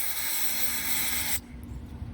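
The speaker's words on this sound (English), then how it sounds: "I'm going to take carb cleaner." Carb cleaner sprays in a close, steady, loud hiss into a dirt-clogged AC induction motor, cutting off abruptly after about a second and a half and leaving a quiet room.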